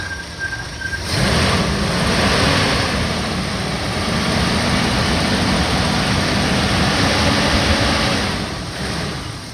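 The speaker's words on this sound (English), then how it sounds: "Let's give her some throttle." A Ford Granada 2.8 engine, very clean and running without smoke, is revved up and held at a loud steady roar for several seconds, close by, then eases back toward idle at the end.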